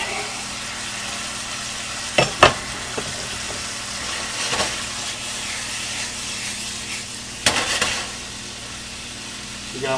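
Pork, onions and garlic frying in a pan, a constant close sizzle with louder spits and stirring clatters now and then.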